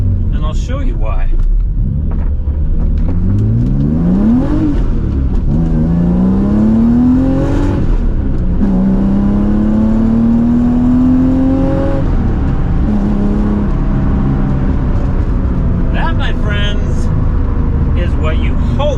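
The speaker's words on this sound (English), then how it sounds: "this has been swapped with the BMW S52 inline 6 3-liter" A supercharged 1989 BMW 325is with a swapped S52 3-liter inline-six pulls hard, its engine note climbing steadily through several rising sweeps, loud and close from the cabin, with someone talking over it.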